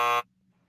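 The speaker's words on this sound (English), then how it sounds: "Hit the buzzer." A loud, harsh electronic buzzer blares for a fraction of a second and then cuts off abruptly, leaving a faint low hum.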